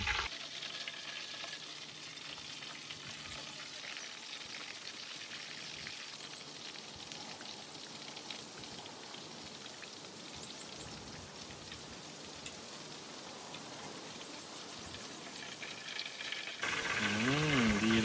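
Crispy pork belly deep-frying in oil over low heat, a steady, even crackle and bubbling sizzle that runs unbroken at moderate volume, with a sharper rustling clatter near the end.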